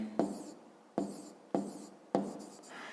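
Pen writing out a math solution on paper: four distinct strokes at roughly even half-second spacing, each a sharp onset fading into a scratchy drag, close and fairly quiet.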